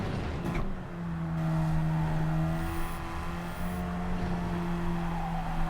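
A Radical race car in Gran Turismo 7 drives a time trial, its engine holding a steady high drone with a gear change and constant tire and road noise, no voices.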